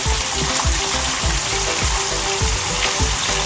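Fish frying in medium-hot oil for Haitian pwason fri, a loud steady sizzle with crackling bursts and low thumps, close and continuous with no talking.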